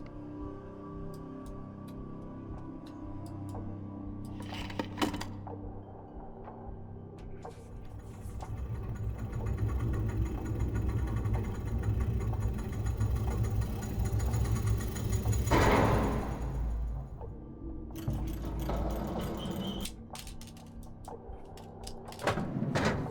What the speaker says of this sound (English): So now when we pull the lever, the cage rotates.